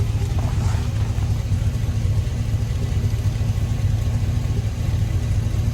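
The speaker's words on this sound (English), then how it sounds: "A little bit of an exhaust leak sound coming from there." A 2002 GMC Sierra pickup with a Flowmaster Super 10 exhaust and a slight exhaust leak idles with a steady, loud, low rumble that stays even from start to finish.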